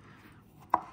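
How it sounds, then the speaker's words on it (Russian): A knife cuts through beets into thin slices on a board, a single sharp chop landing near the end after a quiet stretch of faint kitchen background. "нарезаем свеклу тоненькими"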